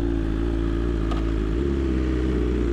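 Superbike motorcycles idling and rolling off onto the road, a loud, steady, close engine drone with a slight shift in pitch partway through and no talking.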